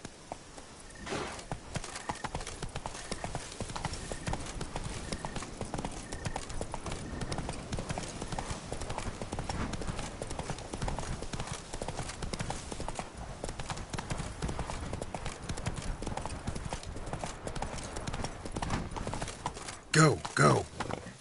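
Horse hooves clip-clopping in a steady galloping rhythm in The Witcher 3: Blood and Wine, continuous and fairly close for the whole stretch, with a brief louder burst near the end.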